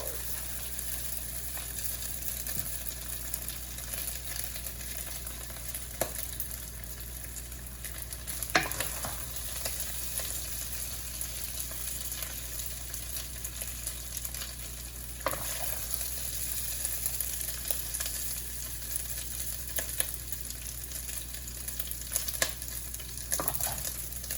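Rice stir-fried in a pan at home, sizzling steadily for a long stretch, with occasional scraping clicks of the utensil against the pan and little or no talk.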